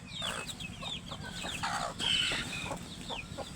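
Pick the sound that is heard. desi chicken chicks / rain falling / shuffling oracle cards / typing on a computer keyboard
desi chicken chicks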